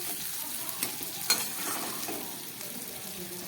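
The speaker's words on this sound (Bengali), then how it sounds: "মশলা দিয়ে আমি খুব ভালোভাবে কষিয়ে নিলাম, প্রায় 2 মিনিটের মতো।" Spice paste fries and is stirred in oil for a fish curry, a soft continuous sizzle with a couple of light scraping knocks from the spoon.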